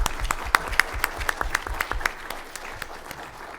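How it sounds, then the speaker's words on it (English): An audience at a Surrey Board of Trade panel event claps for the panelists on the Fraser River. The applause is moderate and brief, with distinct individual claps standing out, and it tapers off steadily. "Ladies and gentlemen, our panelists, a round of applause"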